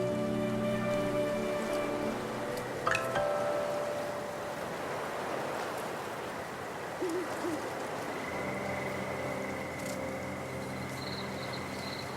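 Strange, steady rain falls in the video game Infinity Nikki, a soft continuous hiss of drops under sustained tonal game music with a brief chime.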